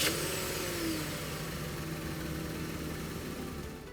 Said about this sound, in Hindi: इसका जो 3 सिलेंडर पेट्रोल इंजन है वो थोड़ा ग्रफ साउंड करता है आइडल पर।